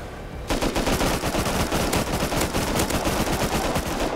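Automatic gunfire in the game Rust bursts in suddenly after a brief quiet lead-in, then continues as rapid, loud, steady rattling shots for several seconds with no talk over it.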